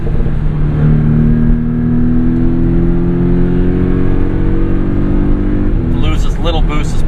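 A tuned 2017 Porsche 718 Boxster S PDK turbo engine drones loudly from inside the car, then the throttle is released and the recirculation valves give off fluttering, whooshing chirps near the end, with a voice speaking over the engine.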